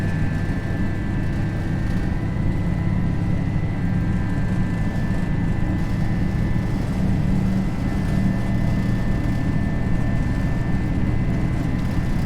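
An FSLabs Airbus A321 rolls for takeoff in a flight simulator, a steady, even engine drone with a thin whine above it, continuous and unchanging throughout, with no voices.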